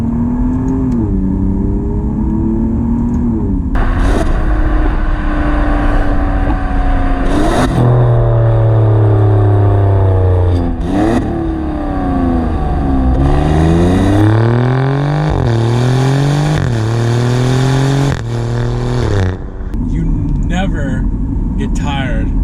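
An Alfa Romeo Giulia Quadrifoglio engine in race mode revs hard and repeatedly, its pitch climbing and dropping through several loud sweeps close by, with someone talking over the engine throughout.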